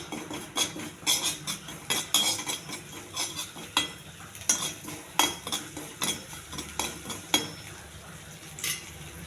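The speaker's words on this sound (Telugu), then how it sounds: "కొన్ని ఆవాలు, కొద్దిగా కరివేపాకు. కొంచెం దోరగా ఎగచాలండి." Mustard seeds and curry leaves fry in hot oil while a spatula stirs, making a busy run of close, crisp clinks and taps over a light sizzle.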